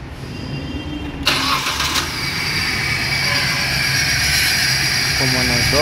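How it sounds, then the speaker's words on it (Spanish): A Suzuki K14B car engine cranks and fires up during an ignition coil test, with a brief starter whir followed by a sudden catch into a steady, slightly uneven idle that continues to the end, with people speaking over it. "proseguimos con la prueba de encendido del motor para ver cómo funciona"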